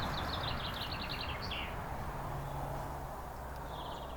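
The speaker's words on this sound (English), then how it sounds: "you start to pick up the sound of the birds." Birds singing in a village, several faint chirping phrases over a steady outdoor background hum.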